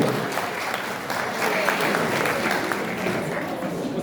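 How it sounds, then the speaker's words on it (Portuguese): Steady applause from a church congregation, clapping continuously at an even level throughout. "Uma salva de palmas para todos, em nome de Jesus"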